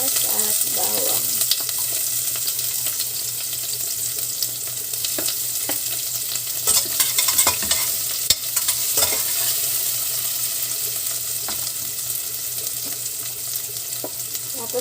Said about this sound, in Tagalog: lagyan na natin ng mantika at igisa natin ang ating sibuyas at bawang